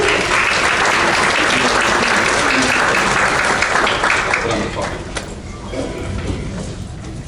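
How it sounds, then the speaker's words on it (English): An audience gives a round of applause as three panelists come up at a real-estate talk; full, loud clapping for several seconds that then drops to a thinner, lingering patter. "Let's give them a round of applause."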